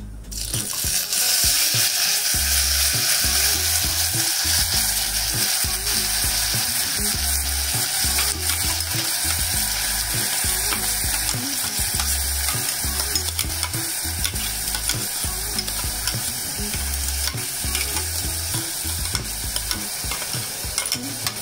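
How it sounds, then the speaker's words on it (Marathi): Ground masala with a pinch of asafoetida and turmeric sizzles and fries steadily in oil, with a continuous crackling hiss and occasional stirring scrapes throughout, close and fairly loud, no voices. "त्याला तेल सुटेपर्यंत परतायचं"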